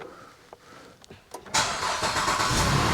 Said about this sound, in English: Let me cut the car on real quick.